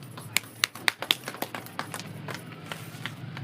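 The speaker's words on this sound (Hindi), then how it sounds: "इस व्यवस्था के लिए एक बार जोरदार तालियां" Audience clapping at a gathering: a handful of sharp, distinct claps near the start, then thinner, scattered claps that fade into a light patter.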